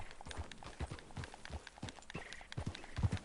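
Hooves of Runner, a horse ridden in the Red Dead Redemption 2 video game, clip-clopping in a steady rhythmic gait, moderately close, with faint background ambience and little talk.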